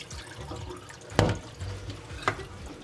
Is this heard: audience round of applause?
no